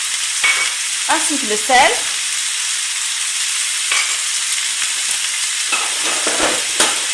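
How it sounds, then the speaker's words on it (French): Meat and onions sizzle loudly in a frying pan while a spoon scrapes and stirs through them in bursts, with a brief spoken phrase near the start. "Et je mélange ma poêle."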